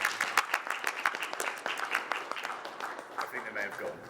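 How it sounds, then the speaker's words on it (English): Audience at a lecture gives a brief round of applause, a dense patter of many hands clapping close by, with a voice speaking partway through. "I think you'd all agree, so round of applause."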